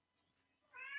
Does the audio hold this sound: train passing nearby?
no